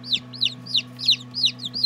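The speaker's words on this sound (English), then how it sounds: "we got chicks everywhere" Newly hatched chicks in an automatic egg incubator chirping, a rapid series of loud, close, high peeping calls repeating about every quarter second over a steady mechanical hum.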